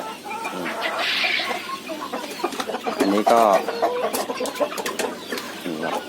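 Yinja black chickens, a big-footed breed, cluck on a poultry farm in Saraburi while someone talks over them nearly throughout, the birds' calls scattered and mostly buried under his voice.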